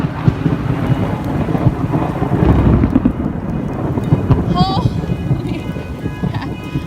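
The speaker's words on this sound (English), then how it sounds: "there's like a really bad thunderstorm going on" A heavy thunderstorm with steady rain and rumbling thunder, including a louder swell of low rumble partway through, under wind buffeting on the microphone.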